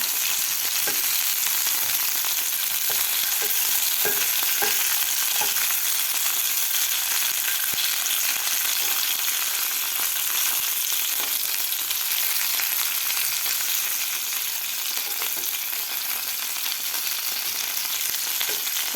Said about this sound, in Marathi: थोडेसे कारले फ्राय करून घ्यायचे आहेत